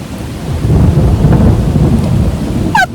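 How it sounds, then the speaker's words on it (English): A thunderstorm with steady rain pours down continuously at fairly loud level, with low rolling rumble throughout, ending in a sharp bright crack of nearby thunder. "a thunderstorm."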